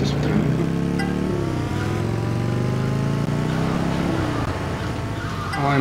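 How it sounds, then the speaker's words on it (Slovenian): Motorcycle engine revving loudly in GTA Vice City Stories, a steady droning roar with shifting pitch as the bike accelerates and changes gear, continuous throughout with a surge near the end. "Ovaj motor je dobar"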